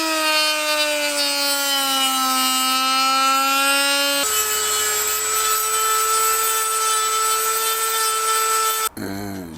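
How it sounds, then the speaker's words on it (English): A Dremel with a small sanding wheel whines steadily at high pitch while trimming guitar parts, shifting to a slightly different pitch partway through, then cuts off abruptly near the end. "a little sanding wheel on the Dremel to neaten things"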